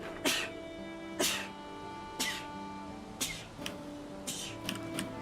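A person sneezes about six times in a row, each a sharp, bright burst about a second apart, the later ones weaker, over a faint steady hum without talking.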